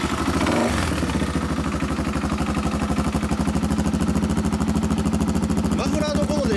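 A Yamaha Serow 225 motorcycle engine runs close up with a steady, even rhythmic thrum and mechanical clatter for the whole stretch, with a brief knock near the start.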